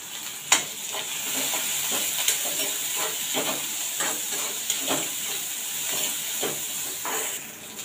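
Curry leaves and green chilli pieces fry in hot oil in a pan for masala dosa filling, a steady close hiss and sizzle with soft spatula scrapes and taps stirring at an even pace.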